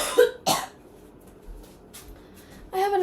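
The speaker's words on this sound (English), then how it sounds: "I randomly get a deep cough." Two sharp, deep coughs come close together near the start, followed by quiet and then a longer throaty cough or throat-clear at the end.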